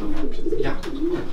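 Pigeons in a pigeon loft coo with low, soft repeated calls, close and steady, with no talk heard over them.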